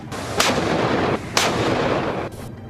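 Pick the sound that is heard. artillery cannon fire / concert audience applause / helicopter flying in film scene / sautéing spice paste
artillery cannon fire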